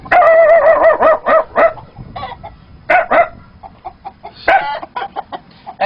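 A man mimics a dog barking, a rapid series of loud, close, tonal yelps and barks in bursts, some sounding almost like clucking, with no other sound around them.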